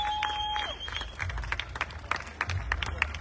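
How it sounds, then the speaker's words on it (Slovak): Audience applause breaks out after a lecture at the UPRISING 2023 festival, a steady crowd clapping that swells mid-clip, with a brief tonal feedback whistle near the start and faint voices mixed in. "Judr Tomáš Zábrienský, veľký potlesk."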